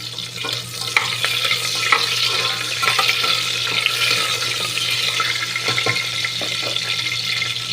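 A ground paste of onion, garlic, ginger, green chilli, coriander and cumin frying in a pan with tomatoes, giving a continuous close sizzle and crackle, with intermittent stirring clicks and scrapes throughout.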